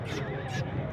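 A horse whinnies close by in a short, loud burst, its neigh blending with a person talking over it and some background noise.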